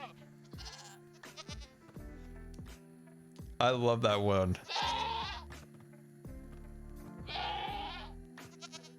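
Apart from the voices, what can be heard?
screaming goats bleating in a video game, Minecraft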